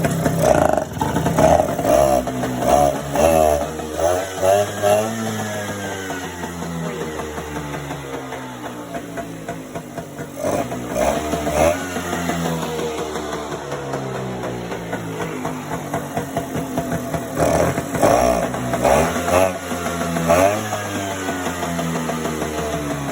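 An old Stella scooter engine with stale fuel runs after being kick-started, a close, rough motor note that rises and falls in repeated revs and sounds a little boggy throughout.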